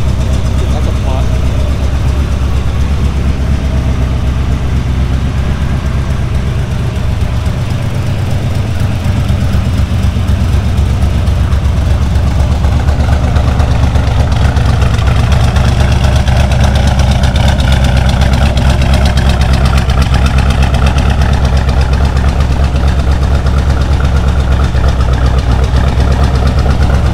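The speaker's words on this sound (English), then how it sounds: "This has a small block Ford, basically. Carbureted, yeah, the 347." A carbureted small-block Ford 347 V8 idles steadily in a car, a loud, continuous low rumble throughout with faint voices in the background.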